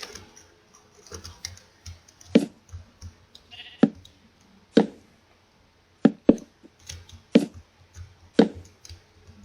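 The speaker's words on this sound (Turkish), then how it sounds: "Sesler geliyor koyunlardan." Sheep bleat in the Minecraft video game, with several short, sharp cries spaced irregularly among quiet clicking and tapping sounds.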